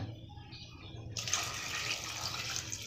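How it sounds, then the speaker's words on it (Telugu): Water is poured into a pot of washed drumsticks on a lit stove, a steady splashing gush that starts suddenly after a second of quiet kitchen background and runs on to the end, close and fairly loud. "కొద్దిగా వాటర్ వేసుకోవాలి"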